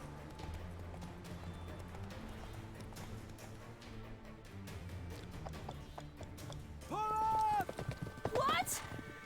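Horse hooves gallop in The Witcher 3, a rapid clip-clop rhythm under game music and effects, with a sharper burst of sound near the end; a voice speaks over the first part.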